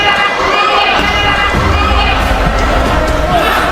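Boxing crowd at the Bohol Cultural Center, a dense, loud roar of shouting and shrill screaming that holds steady throughout, with a few dull thuds mixed into the din.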